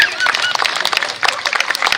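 An audience in a multipurpose court at a residential society applauds a children's Sanskrit performance, with dense, steady clapping from many hands, close and lively, and voices mixed in.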